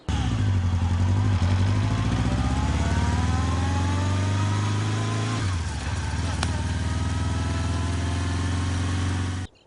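A new motorbike engine runs loud and steady close by, holding a low rumble with a slight rise in pitch before settling, then cutting off at the end.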